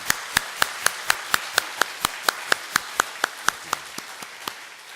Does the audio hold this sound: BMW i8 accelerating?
no